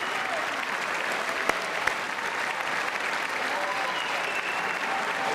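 Loud, continuous applause fills a large chamber at the State of the Union address, a thick steady roar of many hands clapping with faint crowd murmur underneath.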